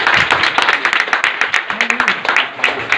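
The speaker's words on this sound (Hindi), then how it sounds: "जरा तालियां भी बजनी चाहिए" A school crowd applauds a student at a second-term results distribution in a high school in Imamganj, Patna: dense, continuous clapping from many hands, close and loud for about three seconds, with faint voices mixed in.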